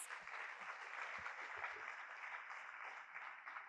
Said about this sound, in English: we ought to give each one of them a huge round of applause